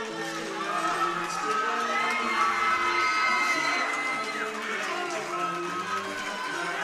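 A large indoor crowd cheers and claps loudly for the home team after a men's volleyball finals game win, with whoops and shouts ringing through a big echoing sports hall.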